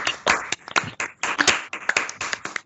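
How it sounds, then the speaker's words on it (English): A summit audience at an improv show claps in a sparse, uneven burst, individual hand claps close and distinct with brief gaps between them. "Let's give them a round of applause, everyone, please."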